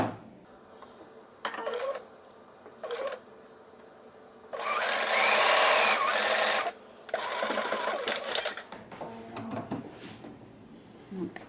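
A sewing machine stitches bias binding onto a garment sleeve in several separate bursts, one short and others longer, with a long steady run in the middle and quiet pauses between.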